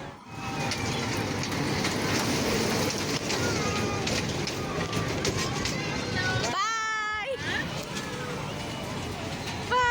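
A toy train ride at a Bahubali-themed exhibition clatters steadily along its track under constant crowd chatter. A brief warbling whistle-like tone cuts through near the end.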